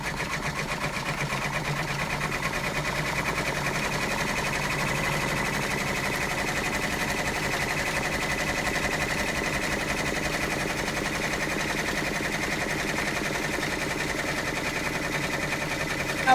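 An embroidery machine stitches a monogram onto a beach bag, a close, continuous rapid needle chatter with a steady mechanical hum running evenly for the whole stretch.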